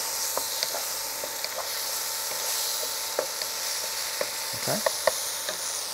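King prawns with onions, tomato and garlic sizzle steadily in a pan, a constant bright hiss broken by scattered light taps and clicks of stirring, with one short word spoken near the end.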